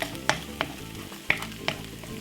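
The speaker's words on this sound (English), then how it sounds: "I'm gonna scramble the egg with the mushroom." Egg being scrambled with mushroom and white onion in a hot pan, a steady sizzle punctuated by several sharp scrapes and taps of a utensil stirring against the pan, fairly close with no talking.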